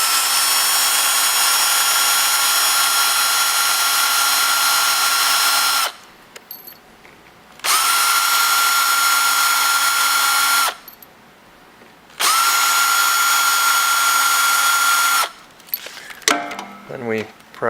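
Power drill backing screws out of a Harbor Freight MIG welder, three long steady whirring bursts separated by short pauses, close and loud, with a few clinks of metal parts at the end.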